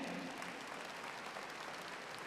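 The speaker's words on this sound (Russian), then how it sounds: "Ваши аплодисменты, друзья!" Faint, distant applause from an audience after a choreographic ensemble's dance performance at a harvest festival in Vitebsk, a steady wash of clapping with no voices.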